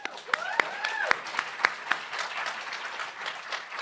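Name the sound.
applause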